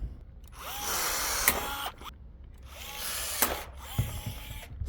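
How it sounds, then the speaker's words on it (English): A rivet gun sets 3/16 pop rivets into an RV power awning: two close, whirring pulls, each ending in a sharp snap, with a small clack afterward. "3/16 pop rivets, and of course my absolute favorite rivet gun."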